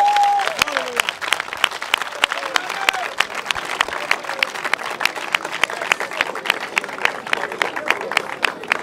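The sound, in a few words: congregation applauding and cheering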